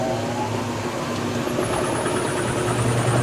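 A GE washing machine on its spin cycle, a steady motor hum with a rising whine that climbs in pitch partway through, moderately loud and continuous, with no talk.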